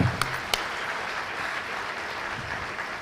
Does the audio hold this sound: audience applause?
yes